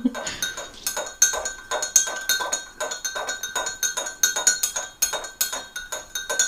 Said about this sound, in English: Stir for 20 to 30 seconds. Turn the spoon in the jug.